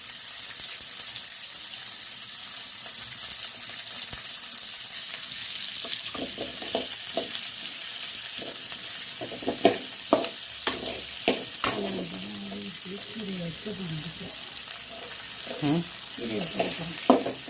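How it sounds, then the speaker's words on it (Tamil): Green chilies and garlic sautéing in a pan over high heat for spinach rice, a steady sizzle with stirring scrapes and clinks of a utensil against the pan in the later part. "பச்சை மிளகாய் பூண்டு இதெல்லாம் போட்டு நல்லா தீயை வேகமாக வச்சுருக்காங்க"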